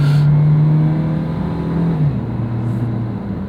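A 2023 Suzuki Jimny small SUV engine drones steadily, its pitch shifting as the revs change through a gear, heard from inside the vehicle.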